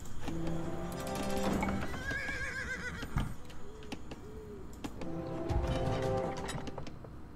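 A horse whinnies twice in an Age of Empires II game, each neigh a bright wavering cry, with hoof clip-clop and clanking unit sounds between them, fairly faint.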